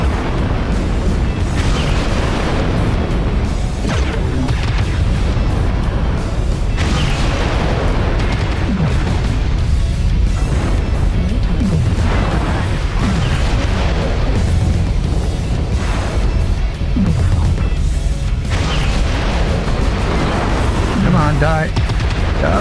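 Mech weapons firing and explosions in MechWarrior Online from an ATM-armed Supernova: continuous loud booming blasts and bursts layered over a dense rumble across the whole stretch, with repeated heavy impacts and a voice now and then.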